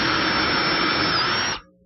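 A power driver sinks screws into the wooden shelves of a painted corner hutch. It makes a loud, steady high whine that holds for about a second and a half, then cuts off abruptly.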